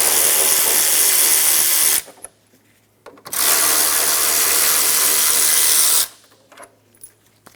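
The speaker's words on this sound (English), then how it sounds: "Remove the 2 bolts on the air box. They're 10mm." Two 10mm bolts come off the air box of a 2007-2012 Nissan Altima with a powered ratchet. Two loud, close whirring runs of about two and three seconds are split by a short pause, and quiet handling noise follows.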